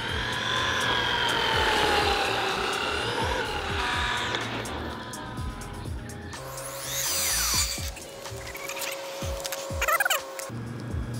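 A car driven at up to 57 miles per hour on stock tires, wandering unsteadily on the road; loud, close engine and road roar fills the whole stretch, turning into sharper whining and scraping noise in the second half.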